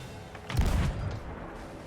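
A ship's cannon in the pirate game Sea of Thieves fires once, a muffled booming thud with a short rumbling tail over steady ambient sea noise.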